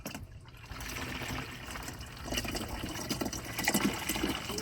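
Liquid pours into a car's washer fluid reservoir during a windshield wiper motor replacement, a steady close splashing gurgle that thickens toward the end.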